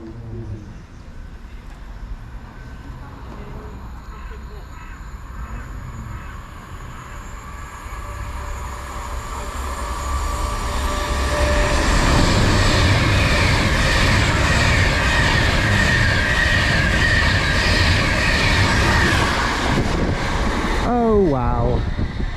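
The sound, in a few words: Avanti West Coast train passing through station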